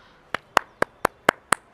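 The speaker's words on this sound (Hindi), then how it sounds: "ताली बजा दिया, ओके एक्सेप्टेड।" A single pair of hands claps seven times in a quick, even rhythm, each clap sharp and close with quiet gaps between.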